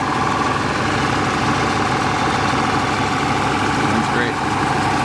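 A 1989 Chevrolet Caprice estate wagon's 5-liter engine idles under the hood, a steady low rumble heard up close and without pause.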